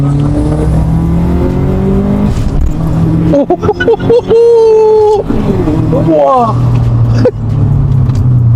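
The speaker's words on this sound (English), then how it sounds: "I like the sound of your BOV." A modified Subaru's loud engine revs up and down several times close by, with a sharp hiss from its blow-off valve between revs; a voice briefly exclaims.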